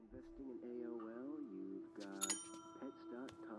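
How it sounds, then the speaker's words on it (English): A motel reception desk call bell in a video game gives one bright, ringing ding that lingers briefly. It sounds under a voice that keeps talking throughout. "There's a call bell on a reception desk"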